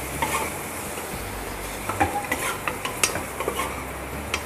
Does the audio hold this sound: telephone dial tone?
no